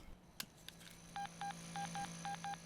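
A quick run of telephone keypad tones as a number is dialed, about six or seven short beeps in uneven rhythm, clear over a low hum.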